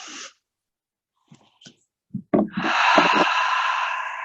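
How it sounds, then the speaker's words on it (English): In a yoga mat class, a person takes a deep breath: a few faint breath sounds, then a sharp inhale and a long, loud, airy exhale close by. "Last big breath."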